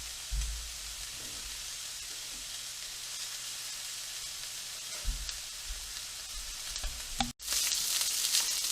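Ground meat and onions frying in a pan for chili give a steady, close sizzle with occasional stirring scrapes, followed by a brief cut and a louder burst of sizzling.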